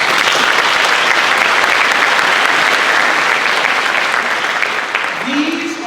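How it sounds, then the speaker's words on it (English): Graduation ceremony audience at a charter high school gives a big round of applause, loud dense clapping sustained from start to end, thinning slightly as a voice begins speaking near the close. "Give all of those folks a big round of applause"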